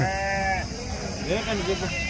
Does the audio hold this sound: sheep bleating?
yes